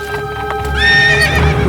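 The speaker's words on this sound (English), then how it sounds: "Aurore saw Ronnie pass by on his horse." A horse ridden past along a road, with hooves clip-clopping steadily at close range and a loud, drawn-out neigh rising over the steps midway through.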